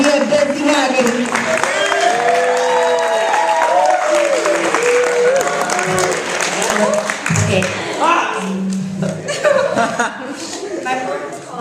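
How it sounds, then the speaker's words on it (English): Sustained audience applause and clapping fills a school showcase hall, loud and continuous with scattered chuckles and crowd murmur throughout. "I want you to keep that round of applause going"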